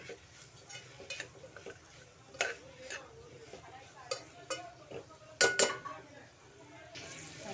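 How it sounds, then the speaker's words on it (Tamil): Vegetables for a vegetable biryani sautéed in a pot, a spoon repeatedly scraping and clanking against the metal over a faint sizzle, with sharp clinks standing out and no voices. "எல்லாம் நல்லா வதக்கி விடுங்க, அடி பிடிக்காமல் இருக்கணும்."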